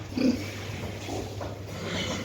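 A brief low pig grunt near the start, then soft snuffling and shuffling noises close by at a feeder in a barn, with a steady background hum.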